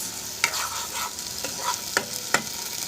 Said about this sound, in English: I'm going to give this to a good mix.